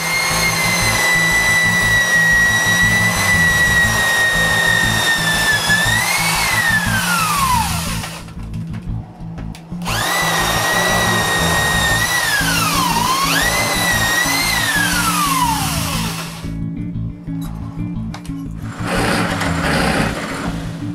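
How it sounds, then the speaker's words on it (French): A loud, steady power drill whine boring holes in wooden shelves runs continuously, rising and falling in pitch as it bogs down and speeds up, with two brief pauses between bursts. "Il ne reste plus qu'à percer tous les trous des grosses tablettes."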